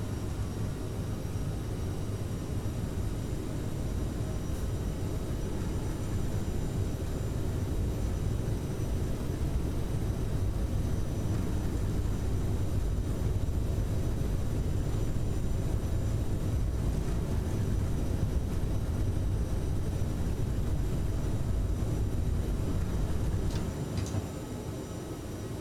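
A Skywest airliner in a flight simulator takes off from runway 29 right at Fresno, a steady, loud roar of engine and rolling noise holding for the full run with faint ticking over it.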